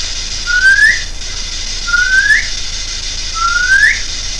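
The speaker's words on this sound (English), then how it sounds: "I'm going to whistle in it" A person whistles three times into a ghost box during a home spirit-contact session, each whistle a short rising note of about half a second, evenly spaced over a steady hiss of static.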